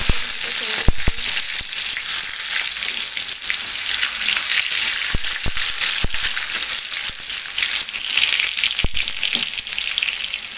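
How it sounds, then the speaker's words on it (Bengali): Bay leaves and cumin seeds sizzle in hot oil, a dense, steady frying hiss close up, dotted with sharp pops and crackles throughout. "এরপরে দুটো তেজপাতা দিয়ে দিলাম, অল্প একটু জিরে দিয়ে দিলাম"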